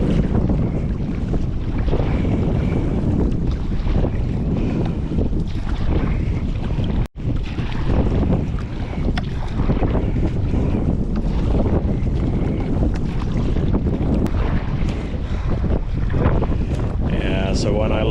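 Sea kayaking into a strong headwind on open water heading back to Sundsvall: steady roaring wind buffets the microphone over a continuous wash of waves and water, loud and unbroken throughout with only a brief dropout midway.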